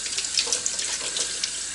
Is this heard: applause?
no